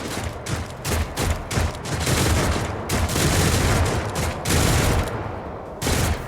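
Rapid turret gunfire in the sci-fi video game Warhammer 40,000 Rogue Trader, a dense, loud fusillade of repeated bursts with short pauses between volleys.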